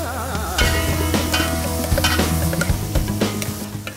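A pumpkin and onion mixture stirred into hot ghee with masalas and ginger-garlic paste, loud close sizzling with repeated spoon scrapes and clatters against the pan, no voices.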